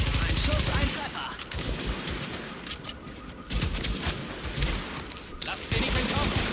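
Dense, continuous gunfire from the game The Division crackles loudly throughout, rapid bursts and blasts overlapping with a few brief lulls, with no talking.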